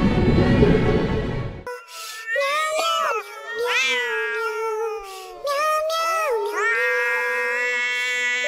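Cats meowing and yowling back and forth in long, wavering, drawn-out cries, loud and close, after a brief burst of noise at the start.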